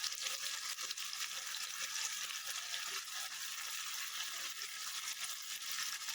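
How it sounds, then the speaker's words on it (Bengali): Tomato paste stirred into a frying chicken and potato curry gives a steady, close hiss of sizzling with faint scrapes of stirring, without talk. "টমেটো পেস্ট করে রেখেছিলাম সেই টমেটোটা দিয়ে দিলাম, দিয়ে ভালো করে নাড়িয়ে নিলাম"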